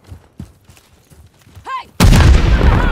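A grenade blast bursts loud and close in a Call of Duty firefight, its heavy boom followed by a dense, sustained rumble of gunfire after a stretch of quieter battle noise and faint voices.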